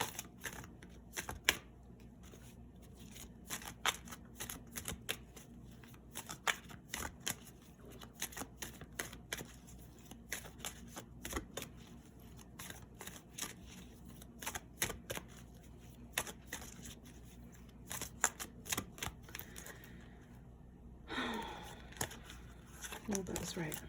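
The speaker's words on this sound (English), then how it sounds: "let's pull a couple more cards here to get a little bit more insight" Tarot cards being shuffled and pulled during a pick-a-card reading, a long run of quick papery riffles and snaps, close and fairly soft, with a voice talking over parts of it.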